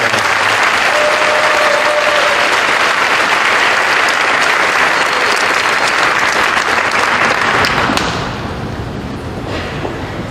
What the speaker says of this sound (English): Let's give all these top 10 a round of applause.